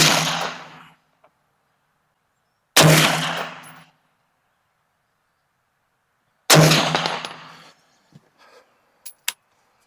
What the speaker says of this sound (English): We're going to shoot that top right target.